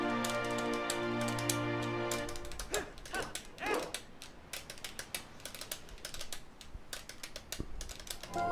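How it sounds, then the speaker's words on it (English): Rapid repeated keystrokes on a computer keyboard click in quick, uneven taps after a brief tonal sound at the start. The typing is fairly quiet and close, with no talk. "I was typing A and B over and over again"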